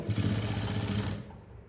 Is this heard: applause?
no